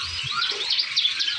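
Songbirds at bird market kiosks in Pasar Pramuka, dense overlapping chirps and trills from many caged birds, busy and continuous.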